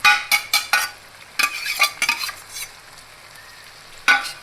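Carrots added to a hot pan and fried: a cluster of sharp clattering scrapes and stirring knocks over a low sizzle, close by, then quieter frying with a final scrape at the end.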